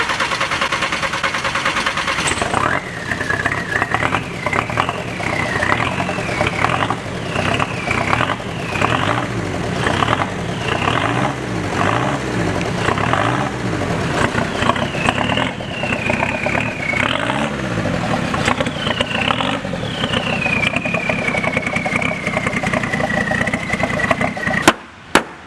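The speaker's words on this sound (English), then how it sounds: "I think we need to start this up and just kind of clear the spider webs out of the engine" A Cummins turbo diesel engine in a custom vehicle cranks and fires, then settles into a loud, rough, clattering idle with wavering revs, close and continuous for the whole stretch.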